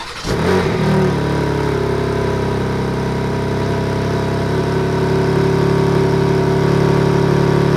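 A BMW 435 starting from cold: a brief crank and catch, then a loud, steady high idle that holds close and alone, without any talk.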